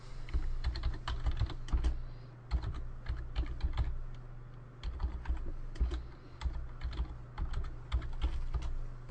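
Rapid, steady typing on a computer keyboard while entering disk partition commands on a Windows 7 computer, close-up and continuous clicking with brief pauses.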